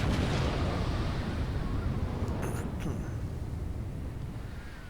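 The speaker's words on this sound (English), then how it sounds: "Fire turret B." A battleship's B turret fires its big guns in Battleship Command, a heavy boom and rumble that fills the start and slowly fades over several seconds, with a few faint metallic clicks partway through.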